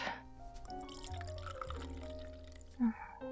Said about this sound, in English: Oh, and pour me a glass.